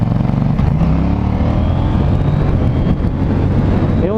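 A KTM Duke 790 motorcycle engine runs loud and close throughout, its steady rumble climbing and shifting pitch as it works through the gears, with no talk over it.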